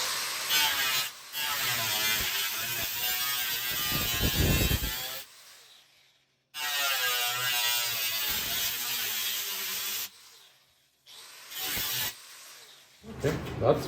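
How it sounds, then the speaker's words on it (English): Harsh buzzing bursts of a power cutting tool slicing relief cuts into the sheet-metal door bottom of a 1966 Triumph GT6, in several long loud runs separated by short silences. "we have to make some relief cuts here because now the two pieces of metal are making this bump in the middle"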